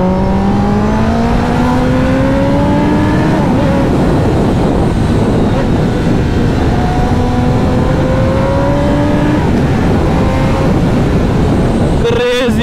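A fast-running bike pulls hard along a road, its engine note rising in repeated climbing sweeps as it gains speed, loud and close with steady road and wind noise underneath.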